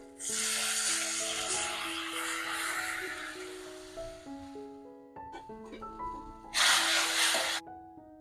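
Tamarind water poured into a hot pan for small-onion sambar gives a sharp sizzling hiss that fades, then a second burst of sizzle near the end, with a voice speaking in between.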